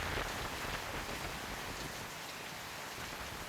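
Pre-monsoon rain falls on villages around Savarkundla in Gujarat's Amreli district. It makes a dense, even hiss of drops striking surfaces that holds steady from start to finish, with no voices.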